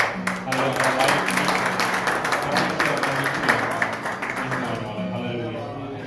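A church congregation claps along during worship, a dense continuous patter of many hands filling the room, with voices talking and singing over the clapping before it thins out toward the end.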